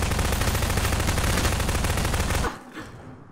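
Rapid, continuous automatic gunfire in a Garry's Mod Guess Who match rattles loud and dense for over two seconds, then cuts off sharply into a faint tail.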